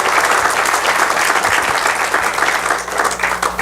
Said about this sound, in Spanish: Si le va a aplaudir a Jesús, déselo con su corazón